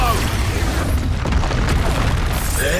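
A heavy boom from an Expulso spell explosion in the game Hogwarts Legacy. It is loud and dense throughout, with a deep rumble and crackling debris.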